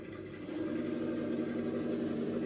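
Stock RC car motor with a 1/3 planetary gear reduction, upgraded ESC, barely throttled, giving a low, steady whirring hum that firms up slightly after a moment and holds evenly.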